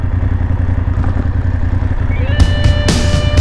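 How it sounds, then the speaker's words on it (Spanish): A motorcycle engine on a foggy mountain ride in the Picos de Europa, Spain, rumbling steadily up close, then breaking into sharper bursts and rising whine near the end. "Cada vez que tengo que encender la moto"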